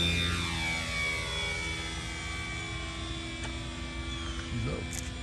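A Dynam P-47 RC model plane takes off on its maiden flight with a steady, buzzing electric motor whine that holds and drifts in pitch, heard close and continuous with a faint voice briefly underneath.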